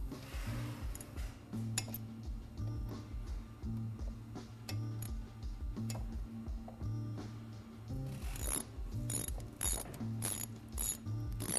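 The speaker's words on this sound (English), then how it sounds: "you're going to want to tighten up your caliper bolts." A hand ratchet clicks rapidly and steadily while tightening motorcycle brake caliper bolts, close up, in continuous bursts of metallic ticking with brief pauses between strokes.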